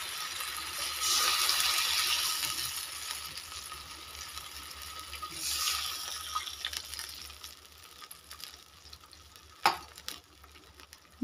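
Water poured into a hot pan of peanuts fried in oil while cooking vermicelli khichdi, with two bursts of hissing sizzle that fade to a quieter simmer, faint clatter and a sharp knock near the end.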